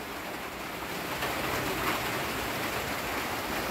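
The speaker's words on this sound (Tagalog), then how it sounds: "Lakas na ng ulan." Heavy rain pours down outdoors in a steady, dense hiss that stays close and constant throughout, with no other sounds standing out.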